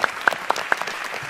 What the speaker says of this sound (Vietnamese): Cộng đi, vỗ tay.